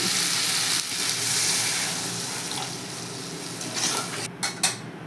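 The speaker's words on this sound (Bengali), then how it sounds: "এবার আমি পরিমাণ মতো জল দিয়ে দিচ্ছি" Water hits a hot pan of sautéed bitter gourd for rohu fish curry with a loud, steady sizzle and hiss, followed by a few clinks of a utensil against the pan.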